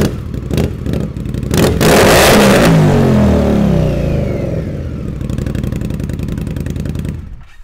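Motorcycle fitted with Rush racing exhaust pipes revving hard and very loud up close, rising blips that climb to a roaring peak, then settling back to a rough, throbbing idle.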